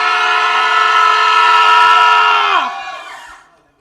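A crowd yelling as loud as it can, a dense sustained roar with a tonal edge that holds for about two and a half seconds, then drops away and fades out.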